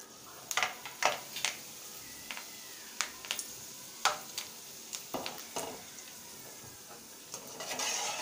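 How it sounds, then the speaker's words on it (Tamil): Curry leaves fry in hot oil for a pepper cashew snack, faint scattered crackles and sharp pops spread irregularly across a quiet hiss. "இப்போ இந்த எண்ணெய்க்குள்ளே இந்த அளவு கருவேப்பிலையை பொரித்து இதில் போட்டுடலாம்"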